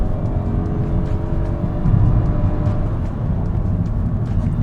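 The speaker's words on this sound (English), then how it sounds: "despite it being a smaller engine, it still sounds really good once it kicks in. It actually sounds like a V6 vehicle." The small petrol engine of a 2023 Nissan Kicks e-POWER VE runs with a steady droning hum and a slight swell partway through, heard close with no speech.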